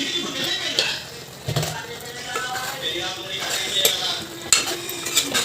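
Drumsticks and tomato curry cooking in a pan make a steady sizzle with scraping stirs and clinks of utensil on metal, close and continuous with a few louder knocks.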